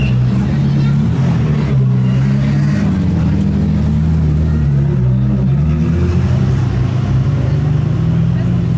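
Ferrari F40 engine running at a classic car gathering, a deep, steady mid-pitched drone with some revving swells, close and loud, with people talking nearby over it.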